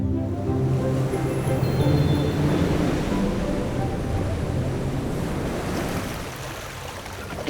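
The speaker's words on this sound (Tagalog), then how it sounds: "Malakas ang alon, pero kailangang mangisda." Strong ocean waves at sea in the West Philippine Sea, heard from a fishing outing: a constant loud wash of surf and wind noise with a low, droning hum beneath it, gradually easing toward the end.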